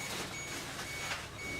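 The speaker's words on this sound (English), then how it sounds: "Gotta turn off the alarm because otherwise it's gonna beep and scream around all the time." A camera's radiation alarm in a Chernobyl laboratory beeps faintly and steadily under a broad background hiss, with no one speaking.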